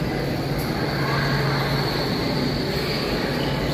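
Montreal Metro train leaving the station, a steady loud rumbling drone with a low hum, continuous throughout without speech.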